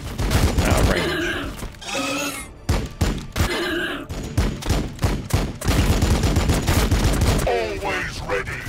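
Gunfire in the strategy game Warhammer 40k Battle Sector during a Blood Angels campaign: rapid bursts of sharp shots and thuds in quick succession, loud and close, mixed with voiced unit lines and game sounds.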